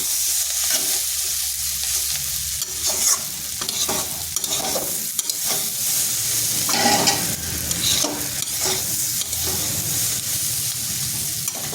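Spring onion and egg curry fries dry in a pan with no water, a steady close sizzle broken by repeated scraping stirs of a spatula throughout, with no talking.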